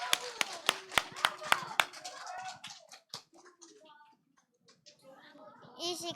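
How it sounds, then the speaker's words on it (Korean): A congregation at a children's Sunday worship service claps in a quick run of about eight sharp, evenly spaced claps, then fades into quieter murmuring and voices. "우리 박수."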